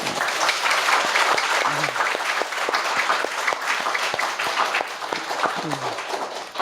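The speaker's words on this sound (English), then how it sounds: "You should applaud them, yeah?" Audience applause at a spiritual gathering, a dense crowd clapping steadily and fairly loud, with a few brief voices calling out beneath the clapping.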